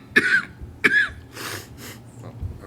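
A person coughs during a town zoning board of appeals meeting, two sharp close coughs followed by a couple of softer rasping throat clearings.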